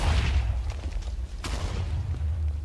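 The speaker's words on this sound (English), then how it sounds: "Let's try that again, but with an actual flight duration 1 firework and see what happens." Dull booming bursts of TNT fireworks in a survival video game, a few broadband pops over a constant low rumble, fairly loud with no talking.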